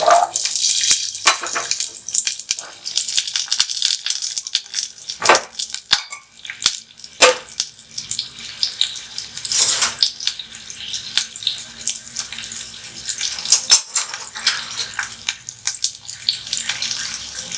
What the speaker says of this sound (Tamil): இப்போ எண்ணெய் காய்ச்சதும் வெங்காயமும் பூண்டும் நம்ம உள்ளே போட்டுற போகிறோம்.